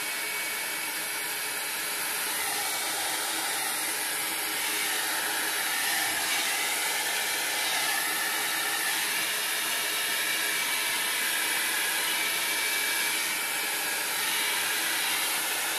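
A high-heat, high-volume dryer blows steadily over alcohol ink on a painting surface, a loud continuous roaring hiss that stays even from start to finish.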